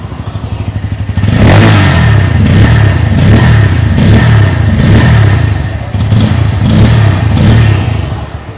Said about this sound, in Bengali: তো চলুন বাইকটির এক্সস্ট সাউন্ড একবার শোনা যাক